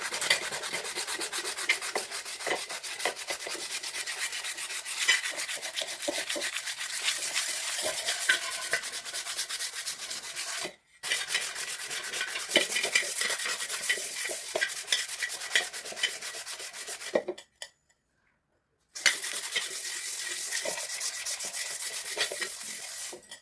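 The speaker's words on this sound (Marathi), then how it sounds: "तुम्ही जो काही पॉलिश पेपर आहे त्याच्याने घासू शकता" Steady dry scrubbing of a rusted iron tawa with polish paper, a continuous rasping rub that runs for long stretches and stops briefly twice.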